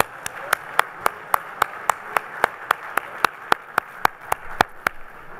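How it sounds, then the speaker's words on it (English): Steady, evenly spaced hand claps ring out for a conference panel at a NASCIO 2019 midyear event, sharp and regular at about four per second for several seconds with no voices over them. "let's have one more vigorous round of applause for this awesome panel"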